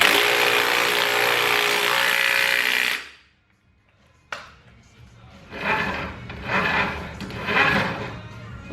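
An impact wrench drives a 22mm axle bolt on a motorized cooler: a loud, steady burst of hammering, then a short pause, a sharp click, and several quieter pulsing bursts of tool noise close by.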